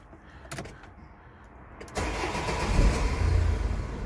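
A few mechanical clicks, then a car engine with its turbo pipe disconnected cranks and catches, settling into a rough, rising rev close by.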